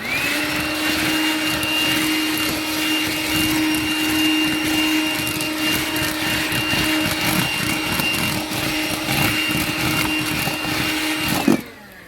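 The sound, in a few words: handheld battery vacuum cleaner running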